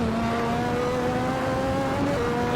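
A Lotus 98T race car in Assetto Corsa pulling out of the pits, its engine droning loud and steady with rising tonal whine and a gear change near the end, no talk.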